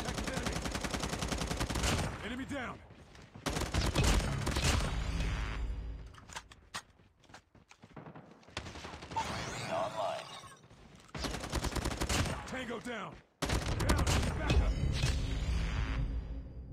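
Bursts of automatic gunfire from a Call of Duty match, several loud rapid volleys separated by brief quieter gaps, with game effects and some speech mixed in.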